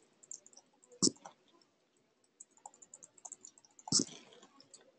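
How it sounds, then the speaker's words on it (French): An email address is typed on a computer keyboard in a quiet room: two sharp, distinct clicks stand out, with sparse, fainter key taps scattered between them. "Ensuite, je vais taper mon adresse email."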